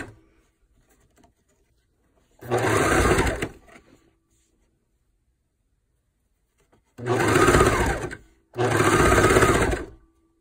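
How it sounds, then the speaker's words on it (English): A sewing machine stitches a garment's back seam in three loud bursts of rapid, even needle chatter, about two seconds each, separated by quiet pauses. "Now I'm going to finish this back seam up."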